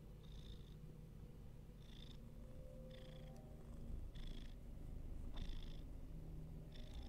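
A house cat purring close by in a steady, continuous rumble, with soft repeated bursts and no talking.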